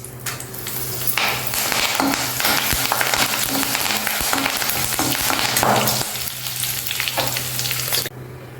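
Curry leaves and a dried red chilli sizzle and crackle in hot oil alongside cumin, a steady loud frying hiss with sharp pops and spatters, close up and continuous until it quiets at the end.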